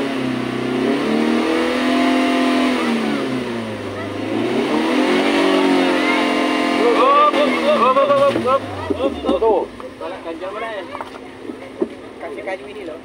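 A Toyota Avanza stuck on concrete ledges revs hard, its engine note rising and falling in loud sweeps before dropping back to a rougher idle with clattering sounds.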